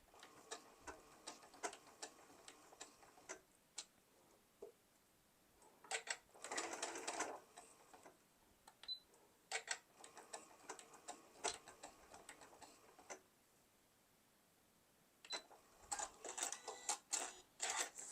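A sewing machine stitches through a quilt in short bursts of rapid mechanical clatter, pausing between runs, with one longer steady stretch of stitching and faint handling noise in the quiet gaps.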